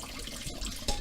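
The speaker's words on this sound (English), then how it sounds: "I'm going to drain this in here. I always run water when I drain this out." A tap runs into a kitchen sink while cooked rotini pasta and peas are drained, making a steady close rush of water with a brief louder splash near the end.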